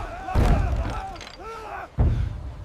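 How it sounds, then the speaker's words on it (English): Heavy cannon fire from a 1592 Korean warship during a naval pursuit, two deep booming shots about a second and a half apart, with someone shouting orders between them. "Fire! Brace for impact! Reload the cannon, quickly!"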